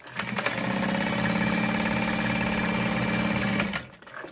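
A sewing machine bastes along the top of waterproof canvas for a handbag, a close, steady mechanical whirr with fast rhythmic stitching that runs for several seconds, then stops abruptly.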